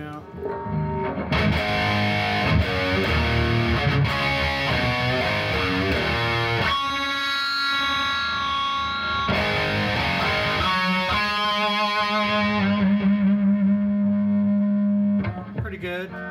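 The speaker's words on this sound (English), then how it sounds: "This is one of the boost pedals I'm working on with the noise gate." A 1973 Gibson SG Standard with a Kahler stud-mount tremolo plays distorted riffs and sustained bends through a boost pedal with noise gate into a Triple Rectifier amp, loud and continuous until it cuts out near the end.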